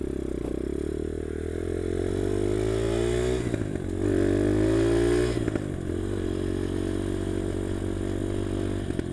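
A revived UM DTF 150 dirt bike runs close by with a steady, buzzing engine drone. The revs climb and fall briefly around the middle of the ride, and no one speaks.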